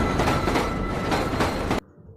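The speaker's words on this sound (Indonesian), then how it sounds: "Karena suara bising kereta api" A noisy passing train in a film roars loudly and continuously with rumbling wheels and clattering rails, then cuts off abruptly near the end; no voices.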